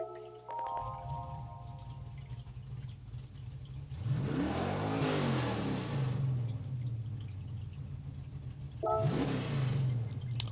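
A 1969 Chevrolet Corvette Stingray engine in the video game Gran Turismo 7 cranks and starts, then revs up twice with rising and falling whines over a steady idle hum.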